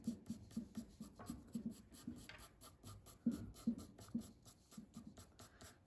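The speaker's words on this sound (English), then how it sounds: "I'm just kind of going with my pencil." A pencil scratches fur texture onto paper in quick repeated short strokes, close and fairly quiet, with a brief pause partway before the rhythmic scribbling resumes.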